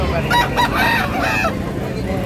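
Roosters and chickens crow and cluck at a market in Tabunok, Cebu, with several overlapping calls over steady crowd noise, loud and near.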